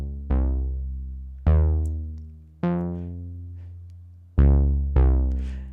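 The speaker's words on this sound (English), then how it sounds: "A great sound you can create like this is some 2 or 3 oscillator dark bass" A dark bass sequence from a Vermona Perfourmer Mk2 analog synthesizer with two oscillators, five loud plucked low notes each decaying slowly, spaced unevenly and heard alone.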